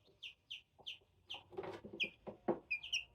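Newly hatched chicken chicks in an incubator give a steady series of short, clear peeps, about two per second and close by, with soft rustling and shuffling between calls.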